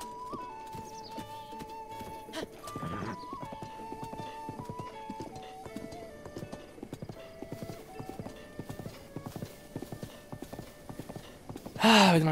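Horse hooves clip-clopping at a steady riding pace in Zelda: Breath of the Wild, a regular rhythmic beat under game music, ending with a brief louder burst near the close.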